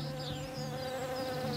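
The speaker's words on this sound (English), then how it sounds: "you can actually hear the bees on this beautiful plant in the foreground" Bees buzz around a flowering Teucrium lucidrys plant in an English garden, a steady soft droning hum with a few individual insects passing close, quiet and uninterrupted by talk.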